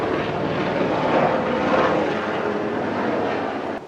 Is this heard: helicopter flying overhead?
yes